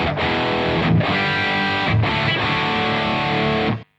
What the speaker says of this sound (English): The normal SLO 100 sounds like this.